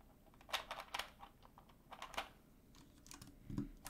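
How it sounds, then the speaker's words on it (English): Quick bursts of typing come from a custom TKL keyboard with Gateron Milky Yellow switches, PBT keycaps and a steel plate, close and clear, with irregular clusters of key presses over a quiet background. "you get the nice PBT sound compared to GMK, right? Although it is a steel plate"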